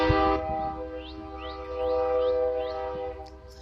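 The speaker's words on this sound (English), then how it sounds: "I live by a train." A low, steady rumble of a train nearby with sustained horn-like tones, fairly quiet and alone without talking.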